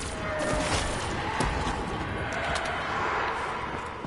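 Rapid gunfire rattles in Black Ops 3 zombies mode, a dense, steady stream of shots running for several seconds at a moderate level, with faint voices under it.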